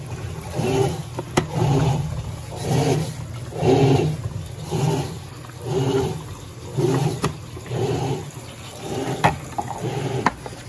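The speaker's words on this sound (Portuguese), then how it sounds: "E na hora que ela começa a agitar, ó, ela já liga a recirculação pra filtrar a água." An Electrolux Turbo Flex LQ11 top-load washing machine agitates a load of heavily soiled clothes while recirculating water, giving rhythmic sloshing surges about every second over a continuous watery rush, close and fairly loud.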